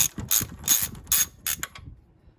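A ratchet loosens the castle nut on a Ford Transit track rod end, giving a few quick bursts of sharp metallic clicking with short pauses between them. The clicks are close and clear, with no talk.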